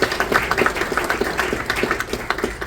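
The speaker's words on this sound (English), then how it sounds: "let's have a big round of applause for the beautiful Wisconsin Maritime Museum" A crowd at a Lake Michigan Day event at the Wisconsin Maritime Museum gives a round of applause, with steady, moderately close clapping that holds an even pace throughout.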